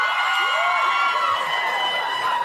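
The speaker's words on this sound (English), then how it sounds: "The very mention of Mangione's name greeted with applause amongst audience members" Studio audience at NBC's Saturday Night Live breaking into steady applause mixed with cheers and whoops, a dense, continuous crowd wash throughout.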